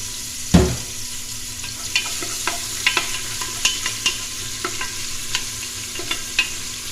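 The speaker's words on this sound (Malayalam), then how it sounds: "ഒന്ന് പൊട്ടി വരുമ്പോൾ റെഡിയായി വെളുത്തുള്ളി ഇഞ്ചിയും കൂടെ ഇട്ട്" Garlic and ginger sizzle in hot oil in a pan, with a soft steady frying hiss broken by a string of small crackles and pops after an initial louder burst.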